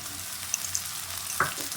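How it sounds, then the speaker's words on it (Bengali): A ginger, garlic and onion paste hitting hot oil in a pan, giving a soft steady sizzle with a couple of faint clinks and one short scraping stir near the end. "আদা রসুন পেঁয়াজ বাটাটা দিয়ে দিচ্ছি,"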